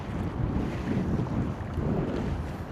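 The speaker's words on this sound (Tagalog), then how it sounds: "lakas ng hangin talaga." Strong coastal wind buffets the microphone at high tide with a low, rushing roar that swells and eases, with no voices.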